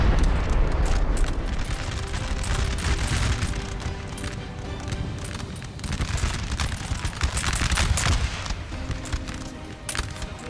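Howitzers firing in a Napoleonic-era battle game, a continuous rumble of booming artillery and scattered musket-like cracks rolling over one another, dense and distant with no clear gaps.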